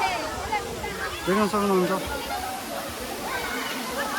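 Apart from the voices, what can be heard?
Gajeri waterfall in Kailali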